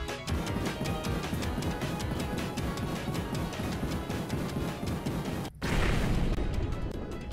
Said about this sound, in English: What's with the fucking explosions for?